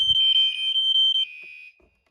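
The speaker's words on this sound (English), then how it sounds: "The horn goes just fine, but the strobe is missing a beat." An EST Genesis fire alarm horn sounds with a loud, shrill electronic tone pulsing in rapid beats, then holds briefly before cutting off, leaving near silence.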